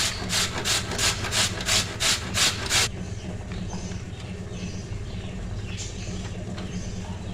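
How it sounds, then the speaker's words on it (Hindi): A potato is rubbed over the coarse side of a grater in about eight quick rhythmic rasping strokes, close and distinct, after which only quieter background noise continues. "अब आलू को हमने कर लेना है ग्रेट"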